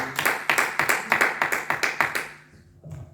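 A church congregation claps in rhythm, about ten loud, evenly spaced beats close by, then the clapping stops and a quieter sound follows.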